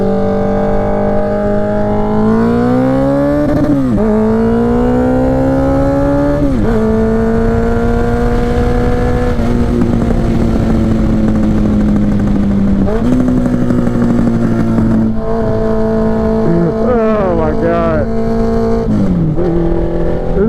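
A Honda CB750 Nighthawk motorcycle engine on a highway drones loud and close throughout, its pitch climbing and dropping through several gear shifts as it accelerates, with no talking over it.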